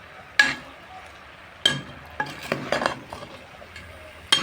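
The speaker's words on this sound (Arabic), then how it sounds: "بس تقلبي بقى كده كام تقليبه" A spoon stirs shrimp soup in a metal pot, giving a few separate clinking scrapes against the pot, each sharp at the start and fading, with quiet gaps between strokes.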